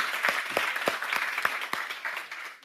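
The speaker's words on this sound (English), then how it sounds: "Please give Hila a huge round of applause" An audience at a lecture hall talk applauds a volunteer invited on stage, with dense, steady clapping from many hands that fades out toward the end.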